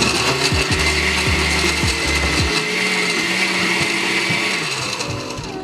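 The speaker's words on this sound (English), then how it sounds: "I'm gonna go ahead and blend it" A kitchen blender purées tomatoes with salt, starting with a few choppy grinding bursts and then settling into a loud, steady whirring drone.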